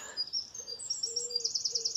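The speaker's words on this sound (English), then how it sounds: "The birds are singing" Several birds sing and chirp at dawn on a misty late-spring morning beside a carp fishing lake, bright repeated high notes and short trills coming close together, growing busier toward the end with no talk.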